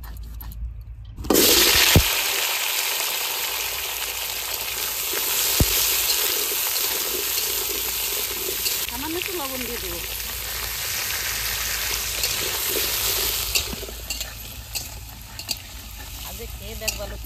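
Fresh kohlrabi fries in mustard oil in a hot iron wok in a village kitchen. A loud, steady sizzle carries close, with occasional stirring scrapes, and a voice speaks briefly over it.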